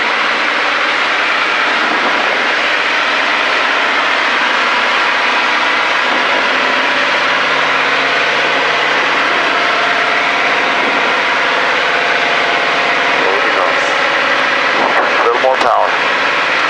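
A small airplane's engine drones steadily at high power during a touch-and-go at Shelby County, loud and continuous, with the pitch holding throughout and a brief rattling burst near the end.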